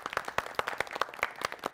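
A small studio audience claps for the winners of a game on a Marathi TV show, a short burst of brisk, fairly close applause with no talk over it.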